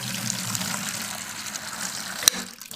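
Water gushes steadily from a hand pump outdoors at a house, filling for a dog, a continuous moderately near splashing flow with a brief sharp knock near the end.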